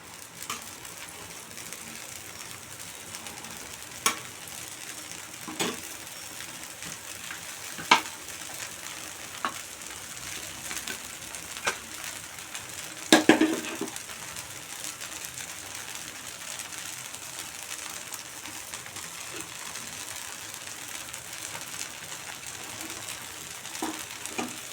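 Wheat rava dosa batter sizzles on a hot pan over a high gas flame, a soft continuous frying hiss broken by sharp clicks and scraping taps, close and moderate in level, without any talk.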